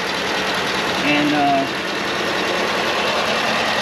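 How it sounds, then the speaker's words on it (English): A Ford F-150 with the 5.0-litre Coyote V8, rated at 400 horsepower, idles with a low, steady rumble close by; a voice briefly sounds over it. "Here's the heart of the truck, the Coyote V8, no EcoBoost here."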